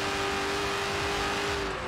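A McLaren Senna engine in the racing game Forza Horizon 4 holds a steady, loud drone with a constant whine, running continuously without any voices.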